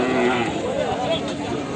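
Low mooing from small cattle at a livestock market carries through a busy outdoor crowd, with voices and chatter mixed around it.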